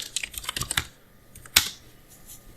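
Typing on a computer keyboard, a quick run of close, crisp key clicks followed by a pause and one sharp louder keystroke, with no talking.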